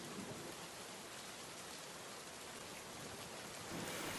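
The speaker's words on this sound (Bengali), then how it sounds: "এই রাতের বেলা ঝড় বৃষ্টি উঠল" In an animated cartoon, a night-time storm brings rain as a faint, steady hiss that holds evenly and swells slightly at the very end. No distinct thunder claps stand out, and no one speaks.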